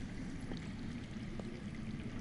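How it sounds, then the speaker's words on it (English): Underground water runs steadily in a Game of Thrones video game scene, a continuous rushing, pouring stream with no break, moderately loud and heard alone. "That's water."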